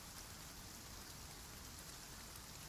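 Rain pours steadily onto a bookshop roof in Edinburgh, a soft, even, continuous patter with no pauses and no voices.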